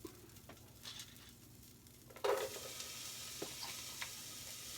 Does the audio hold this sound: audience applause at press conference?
no